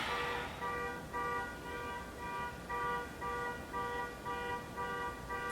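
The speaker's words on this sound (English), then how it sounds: "Can you hear the beeping of the car in the background?" A car alarm beeps in repeated short tonal bursts somewhere outside, roughly one burst every half second, steady and moderately loud over a constant background hiss.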